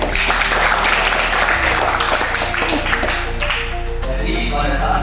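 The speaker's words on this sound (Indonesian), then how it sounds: "tepuk tangan dong" Audience applause at a public speaking practice session, a steady, dense wash of clapping that runs the whole stretch over a low background hum.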